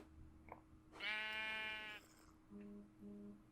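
A sheep in the Minecraft video game bleats once, a clear, drawn-out bleat lasting about a second, followed by a few short electronic tones.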